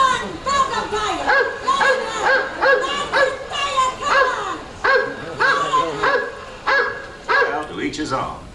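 A dog barks and yips repeatedly in quick bursts at an animatronic Carousel of Progress show at Walt Disney World, mixed with voices talking over it, close and fairly loud.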